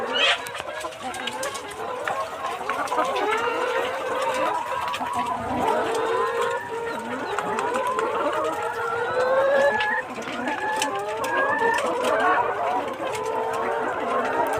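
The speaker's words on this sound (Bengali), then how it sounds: "দেখো বন্ধুরা কত বড় পোলট্রি মুরগির ফার্ম" A dense chorus of many layer chickens clucking and calling continuously on a poultry farm, with occasional rooster crows rising above the flock in a busy barn.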